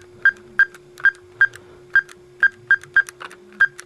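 A run of about ten short electronic keypad beeps at an uneven dialing pace, close and clear, over a faint steady hum.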